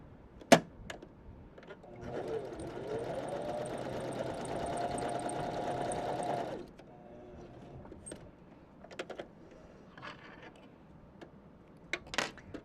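Janome 500 or 721 sewing machine stitching a sample row at stitch length 3, a continuous mechanical whir lasting about four seconds, framed by scattered clicks and taps before and after.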